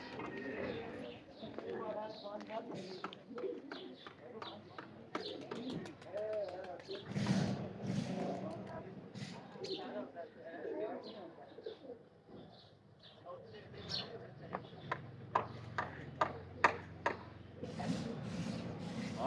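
Pigeons coo softly in a loft on a sunny day, low repeated calls running under a voice as he talks throughout.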